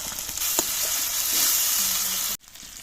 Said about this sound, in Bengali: শুকনো লঙ্কা বাটা দিয়ে দেবো আর দিয়ে দেবো টমেটো কুচি দিয়ে একসাথে মশলাটা কষিয়ে নেব